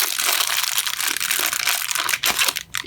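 Plastic bag of mechanical keyboard extras, including a keycap puller, crinkled and crushed while being opened, a loud, continuous rustling close up with sharp crackles throughout and no talk.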